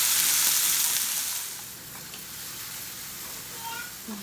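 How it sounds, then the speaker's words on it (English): Mixed vegetables with garlic sautéing in a pot for a lemon cream sauce, a steady broadband sizzle that is loudest at the start and settles to a softer, even hiss. "So we're just sauteing all the veggies together."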